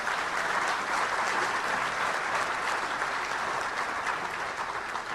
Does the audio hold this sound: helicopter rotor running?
no